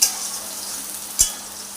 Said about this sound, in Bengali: তেলে ভালো করে ভেজে নিতে হবে এঁচোড়। এইভাবে নেড়ে চেড়ে খুব ভালো করে ভেজে নিচ্ছি।